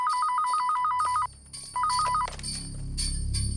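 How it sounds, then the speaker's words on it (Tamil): A telephone rings in a drama scene, a loud warbling electronic trill in two bursts separated by a short pause, followed by a low rising rumble. "ஃபோன் எட்ரி. ஃபோன் எட்ரி. ஃபோன் எடு."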